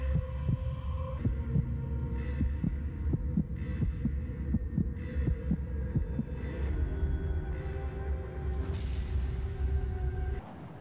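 In the video game Max Payne, a slow, steady heartbeat thumps repeatedly over a deep droning hum, then the pulse fades as a brief high tone cuts in near the end.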